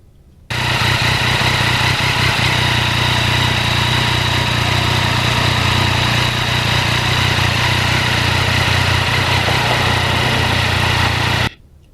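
A 2020 Yamaha MT-09 motorcycle engine runs on back roads with a steady, loud, continuous drone that starts abruptly and stops near the end, with no talking.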